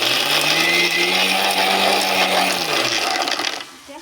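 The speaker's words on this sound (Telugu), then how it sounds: "ఇప్పుడు మిక్సీ పడుతున్నా" A mixer grinder blends tomato and green chilli chutney in a loud, steady whir that runs nearly four seconds before winding down at the end, heard alone.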